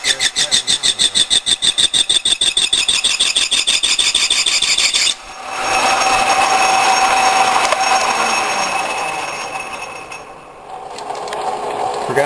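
A machine cuts hard metal while a payloader arm is repaired. It opens with a loud, fast rhythmic chatter, then changes after a brief break to a steady, harsh, squealing grind that fades slightly before resuming.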